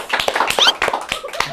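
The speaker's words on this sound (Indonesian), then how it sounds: "Tepuk tangan dong buat Fahrul." A small studio audience claps for Fahrul on a talk show. The clapping is brief and irregular, and voices are mixed in.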